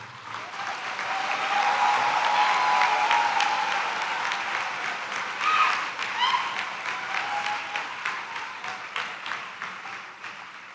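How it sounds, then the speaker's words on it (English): A large audience claps for graduating Electrical Engineering students at the IIT Madras 62nd convocation, a sustained, even applause that swells early and then holds steady before tapering slightly. "You can have a big applause for yourself."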